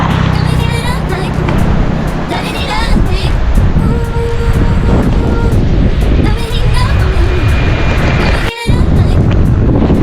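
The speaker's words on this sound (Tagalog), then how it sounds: "Lakas ng hangin dito." Strong wind buffets the microphone in a loud, steady roar on a mountain-bike ride at Tagaytay's People's Park peak, lasting throughout, with a brief dropout near the end and faint voices underneath.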